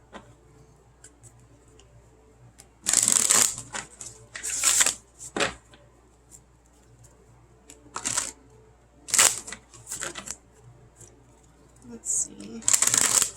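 Deck of reading cards being shuffled in several quick riffling bursts, close and crisp, separated by quiet gaps, with a voice speaking briefly.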